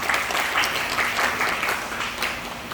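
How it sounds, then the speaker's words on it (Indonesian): Audience of students and lecturers at a university talk show claps loudly and continuously, with dense, even applause filling the whole moment. "Beri tepuk tangan kepada beliau."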